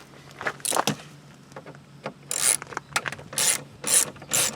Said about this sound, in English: Got my ratchet here with my T25.